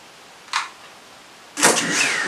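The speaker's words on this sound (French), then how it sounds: "les moteurs démarrent" Small F007 Pro drone motors spinning up indoors: a brief whine burst, then a sustained high-pitched rising whir that continues steadily at close range, no talking.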